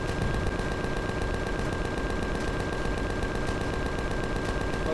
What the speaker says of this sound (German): Nein, das sind die Typen selbst, die auf uns schießen.